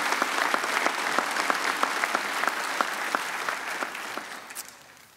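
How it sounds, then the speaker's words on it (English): Congregation applauding musicians at a traditional Easter Sunday church service, a sustained round of clapping at moderate level that tapers off toward the end. "Would you give them another round of applause?"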